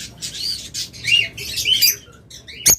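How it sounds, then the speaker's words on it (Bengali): Opaline lovebirds squawk and chirp in sharp, rapid bursts close by, ending with one loud shrill screech. "এগুলো কিন্তু সব অপালাইন লাভবার্ড"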